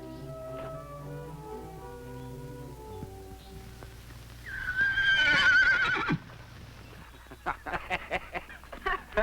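A horse whinnies loudly for about a second and a half near the middle, with other clip-clop and knocking sounds after it and a low, soft bed of voices and music before it.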